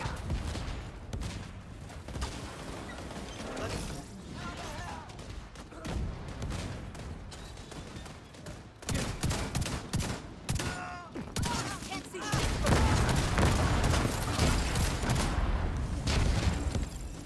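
Rapid, sustained fire from a mounted heavy gun in The Division 2 raid hammers continuously, growing louder and denser toward the end, with booms and battle noise mixed in.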